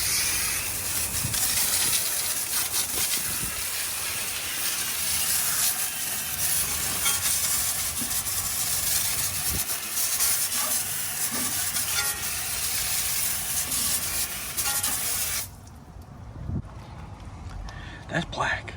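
Water spraying hard over a dirty Silverado pickup truck during a rinse, a steady loud hiss lasting about fifteen seconds before cutting off abruptly, then quieter background with scattered knocks.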